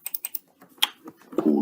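Keys clatter on a computer keyboard while a map is being labelled in mapping software, a quick burst of four taps followed by scattered single presses, close and fairly quiet, with a louder clunk near the end.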